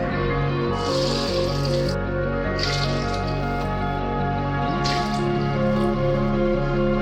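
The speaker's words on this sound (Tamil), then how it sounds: "அரிசி பருப்பு எந்த பாத்திரத்தில் எடுத்தோமோ அதே பாத்திரத்தில் 3 மடங்கு தண்ணி ஊற்றணும்." Water poured into rice and lentils in a cooking vessel while making nombu kanji: a few short splashing, gushing bursts over a steady bed of background music.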